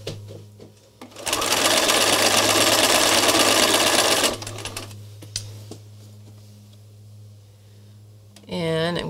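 Sewing machine starting its threads on a fabric flower, a loud steady whir for about three seconds close up over a low hum, then quieter handling sounds and a voice speaking at the end.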